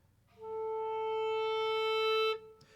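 A single sustained clarinet tone holds steady, swelling gradually louder over about two seconds in a crescendo before cutting off sharply, played alone.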